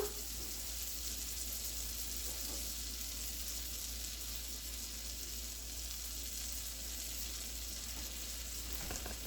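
Eggnog French toast frying in melted butter produces an even, continuous hiss with no breaks, fairly faint over a low steady hum.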